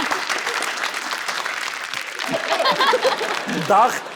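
A studio audience at an Armenian comedy game show bursts into sustained, dense applause, with a few chuckles and voices mixed in over roughly four seconds.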